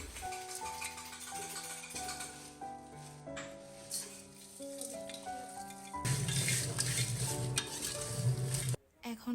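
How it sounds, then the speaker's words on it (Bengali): Spices lightly frying in a pan for mezban meat, with steady sizzling and occasional stirring, louder in the last few seconds, under continuous background music. "মশলাগুলো কিন্তু এখন আমি হালকা করে ভেজে নিচ্ছি যাতে করে স্মেলটা ভালো থাকে"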